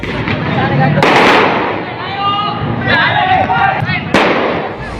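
Firecrackers burst during a teenage gang brawl on Jalan DI Panjaitan in Jatinegara, East Jakarta: two loud, sharp bangs ring out over a noisy, shouting crowd, with voices talking throughout.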